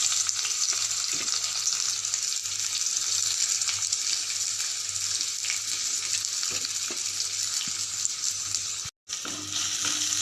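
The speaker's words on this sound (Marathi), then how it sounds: "कढईमध्ये तेल तापत ठेवलं आहे त्याच्यामध्ये आपण कांदा टाकायचा भाजायला" Onions sizzle loudly and continuously in hot oil in a kadhai, a steady crackling hiss with no voices.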